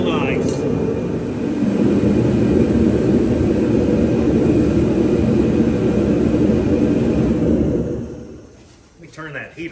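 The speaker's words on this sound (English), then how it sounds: "Let me turn that heater off." A space heater runs steadily inside a cold tractor shop, a loud broadband roar that holds for about eight seconds before cutting off, leaving a quieter room with a voice starting at the end.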